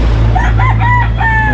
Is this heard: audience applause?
no